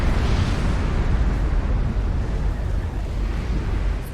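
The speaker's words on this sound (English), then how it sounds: "A nuke lands over here." A nuclear missile strike in the real-time strategy game Supreme Commander: Forged Alliance, heard as a loud, sustained low rumbling roar that fills the whole stretch without letting up.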